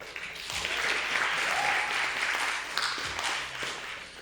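An audience at an open mic poetry night in a coffeehouse breaks into sustained applause, a dense wash of clapping that swells and holds steady for several seconds, with faint voices and cheers mixed in.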